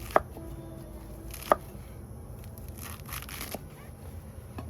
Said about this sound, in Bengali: আমি মেথি শাকটাকে ভালো করে কুচিয়ে নেবো একদম মেহি করে